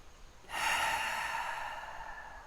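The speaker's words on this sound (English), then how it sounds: "deep belly breathing." A single deep belly breath during a lying-down relaxation exercise, a long, close, airy exhale that starts sharply and holds steady for about two seconds, alone with no talk.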